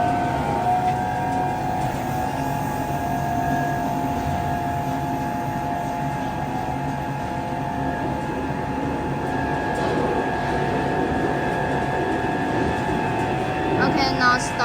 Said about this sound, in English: now turn on the vacuum pump